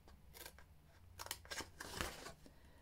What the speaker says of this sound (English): So I'm going to cut again on this one to the right of that groove